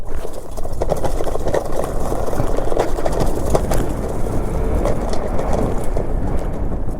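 An FVKING E6 electric dirt bike rips along a steep hill trail, its frame rattling and clattering in dense, irregular bursts over a continuous rough rolling noise.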